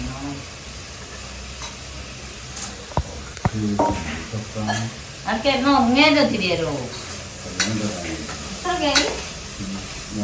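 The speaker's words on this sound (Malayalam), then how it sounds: "ഏട്ടന് ചിക്കനൊക്കെ പൊരിച്ച വേണം എന്നൊക്കെ പറഞ്ഞ് ഉണ്ടാക്കാനുള്ള പണിയിലാണ്" Chicken sizzles as it fries in a pan in a home kitchen, with utensils stirring and clinking now and then. Voices talk over the steady frying.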